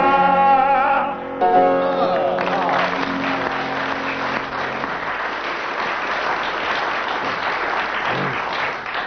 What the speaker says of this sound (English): the audience applauded for 25 seconds